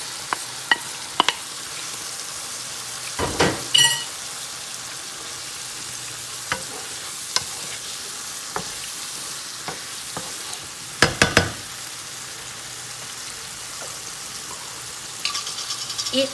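Onions and garlic frying in a pan for an African dish, a steady soft sizzle running throughout, broken by a few sharp clatters and scraping stirs of a utensil against the pan.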